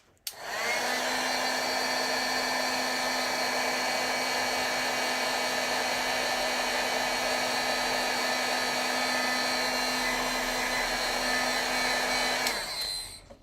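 A heat tool heat-sets a freshly stamped ink image, a steady, loud whirring blow that runs without a break for about twelve seconds before cutting off.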